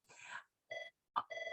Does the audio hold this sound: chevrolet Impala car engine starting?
no